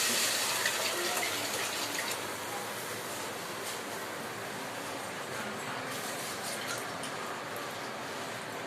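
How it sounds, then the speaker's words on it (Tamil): Tamarind water poured into a pan of fish curry makes a steady close splashing gush that fades to a softer continuous trickle, with no talk. "இப்போ நம்ம எடுத்து வச்சுருக்க புளி கரைசலை அதில் ஆட் பண்ணணும்"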